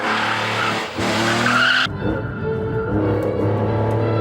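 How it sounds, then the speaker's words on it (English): A BMW M3 CSL's tyres squeal and skid as its engine revs hard, wheels spinning loudly off the line before the pitch drops and the engine roars on. "wheel spinning off the line"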